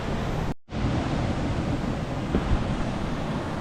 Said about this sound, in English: I'm out here in a f***ing waterfall, baby.